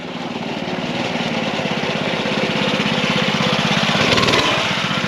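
A dirt bike engine runs steadily close by, a continuous buzzing drone with a rapid pulsing beat that rises slightly in pitch and loudness toward the end, heard alone without talk.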